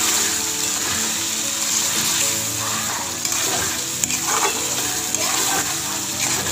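Fish cooking in oil in a pan, a constant close sizzle and crackle with small clinks and stirring sounds, no talk over it.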